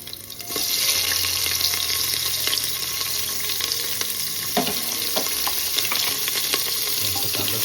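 Chopped onion sizzles and crackles loudly in a hot pan, starting abruptly after a brief quiet moment, with occasional stirring scrapes and no voices.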